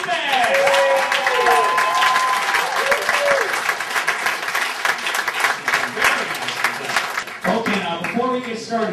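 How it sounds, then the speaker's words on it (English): An audience claps in sustained, loud applause, with music playing alongside and a voice speaking over it near the end. "A round of applause for Mr. Peter Lupus."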